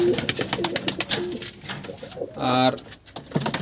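Old-breed yellow-eyed pigeons coo in a loft among high-flying tumbler birds, a short rolling coo rising clearly amid nearby talk and rustling.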